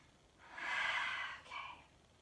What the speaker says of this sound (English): you basically exhale for double the count that you inhaled for